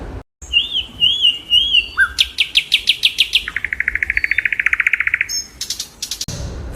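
A bulbul sings alone, nearby and clear: whistled phrases, then a fast series of repeated bright notes in a rapid trill, ending abruptly.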